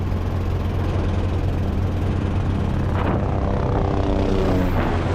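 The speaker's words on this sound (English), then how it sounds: "And there goes the helicopter." A helicopter's rotor and engine drone passes nearby in rugged mountain country, a loud sustained whir whose pitch bends as it moves past, with a low engine rumble underneath.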